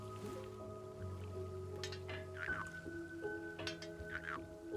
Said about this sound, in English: frog makes a little noise when it's out of water